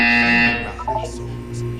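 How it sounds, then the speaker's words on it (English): A loud electronic buzzer sounds during a recorded physical and mental wellness exercise. It is one steady harmonic buzz lasting about half a second, followed by a voice speaking. "When you hear the buzzer, look down at the floor."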